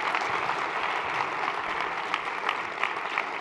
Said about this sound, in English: can I get you all to give this amazing AV team a huge round of applause?